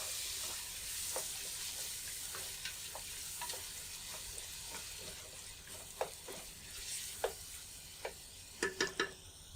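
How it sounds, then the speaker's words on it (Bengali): Chopped tomatoes added to a sizzling pan for camel meat kabsa, a steady faint frying hiss with scattered spoon clicks and scrapes that cluster toward the end. "ওই টমেটো দুটি দিয়ে দিচ্ছি।"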